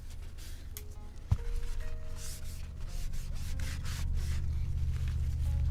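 Steady rubbing strokes as ink is rubbed onto wood as a stain, a continuous scuffing texture with a sharp knock near the start, close and moderately loud, no talking.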